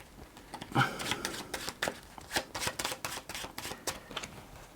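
A deck of playing cards being shuffled by hand during a mind-reading card trick, quiet crisp riffling and flicking bursts in an irregular run, close and faint, with no talking.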